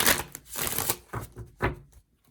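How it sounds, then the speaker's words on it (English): Tarot cards being shuffled in several quick riffling bursts separated by short pauses, close and moderately loud with no voices. "I need to shuffle differently first."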